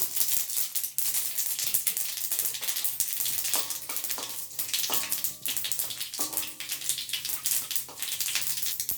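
Mustard seeds and urad dal sizzling in hot oil for a seasoning, a dense steady hiss with scattered sharp crackles and pops throughout, close and moderately quiet, without speech.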